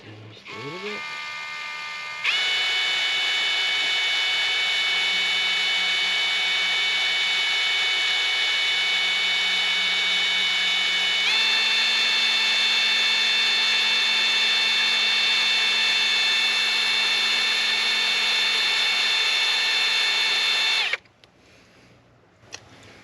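A power drill whines steadily and loudly for about eighteen seconds while drilling to set an easy-out extractor, shifting pitch partway through, then stops abruptly.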